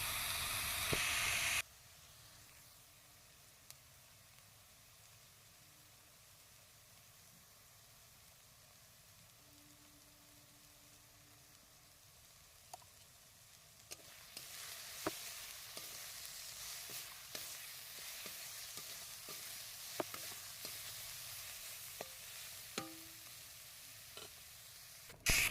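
Spices with salt, turmeric and red chilli powder stirred and sizzling in mustard oil for a fish curry of snakehead (shol) kalia, a steady frying hiss with scraping stirs, a loud burst at the start and busier crackling later, no talk.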